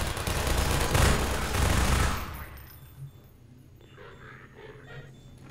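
Gunfire in the video game Half-Life 2: a loud, dense burst of rapid shots for about two seconds, then fading into a quieter rumble with a few distant pops.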